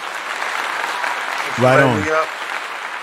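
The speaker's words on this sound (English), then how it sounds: "Let me give you a clap." Applause for a panel guest on a talk show, a broad steady wash of clapping throughout, with a voice speaking briefly in the middle.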